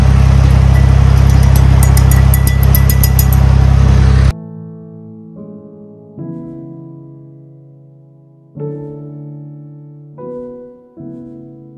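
A loud, rumbling tractor engine runs steadily for a few seconds, then cuts off abruptly and gives way to soft, sustained musical tones.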